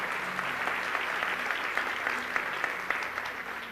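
Steady, full applause from a church congregation, a continuous crackle of many hands clapping at even strength with faint voices beneath.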